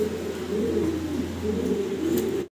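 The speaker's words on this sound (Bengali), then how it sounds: "চমৎকার এক জোড়া মডার্না কবুতর আমরা দেখতে পারতেছি" A pair of Modena pigeons coo close by, a soft low rolling burble repeated over a couple of seconds against a quiet steady hum.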